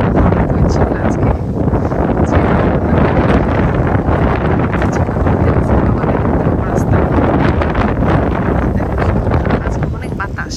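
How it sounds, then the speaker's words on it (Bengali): A strong seaside wind buffets the microphone nonstop with loud, dense rumbling gusts along a rocky, eroding shore road. "আজকে অনেক বাতাস"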